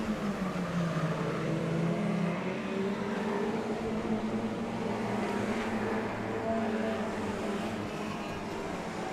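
Mini stock race cars roar around a quarter-mile track at Showtime Speedway in an Ice Crusher event, a continuous layered engine drone with shifting pitches as cars jostle for position, heard from trackside.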